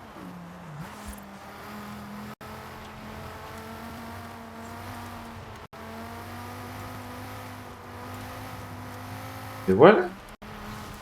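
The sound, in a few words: Dodge Viper driving and drifting in video game Forza Horizon 5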